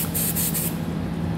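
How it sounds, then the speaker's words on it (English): Spray lubricant hisses onto exhaust hangers and their rubber isolators during a trailer hitch receiver installation, a loud, steady, close burst lasting just over half a second before cutting off. "we're going to be spraying them down with a spray lubricant."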